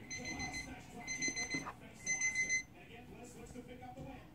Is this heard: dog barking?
no